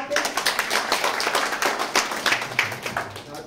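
A church congregation claps for a woman singer after a praise song, with dense, steady clapping and voices mixed in throughout.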